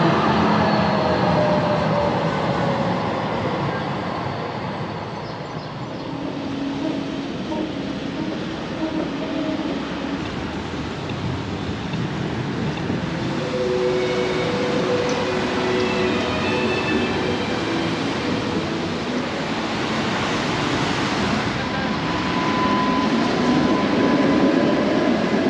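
A big, echoing hall rumbles inside Leipzig Hauptbahnhof, a huge railway station, as trains move through with a steady roar, drawn-out wheel squeals and faint high tones over a constant din.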